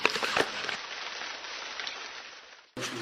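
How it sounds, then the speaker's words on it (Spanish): Steady rain falls on a yard, a continuous soft hiss of drops at moderate distance that runs on evenly and then cuts off abruptly near the end. "Al sonido de la lluvia"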